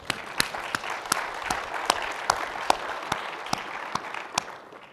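An audience at a Linux kernel memory-ordering talk applauds in a quiet, steady patter, with a few sharper individual claps standing out over the wash of hands.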